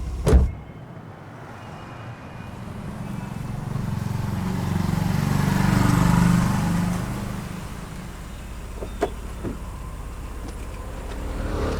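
A car with a suspected clutch problem starting up and running: a sharp thump at the start, then a low engine hum that swells and fades away, followed by a few faint clicks against quiet background.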